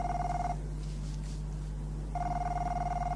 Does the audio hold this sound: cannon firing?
no